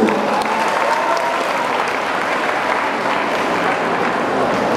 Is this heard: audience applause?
yes